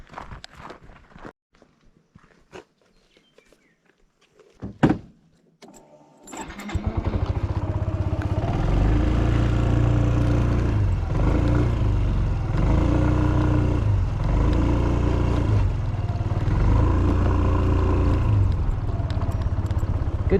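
A Yamaha Smax 155 scooter starts after some footsteps and clatter, its engine catching and settling into a loud, steady drone that builds as it rides off along an outdoor trail.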